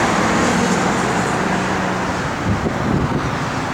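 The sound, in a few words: 1970 Chevrolet Chevelle SS 454 engine running, dual exhaust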